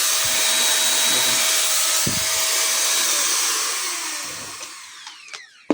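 An electric paint spray machine runs with a steady, loud whining hiss that fades and trails off near the end, with a few faint clicks and knocks around it.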